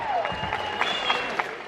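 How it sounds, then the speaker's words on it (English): Applause at a car show as someone comes up to the stage: a dense, steady patter of many clapping hands, fairly close, with crowd noise mixed in. "give her a round of applause for coming up to the stage"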